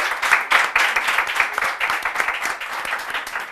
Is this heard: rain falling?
no